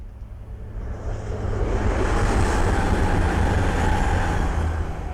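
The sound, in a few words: East Midlands Railway Meridian train passing by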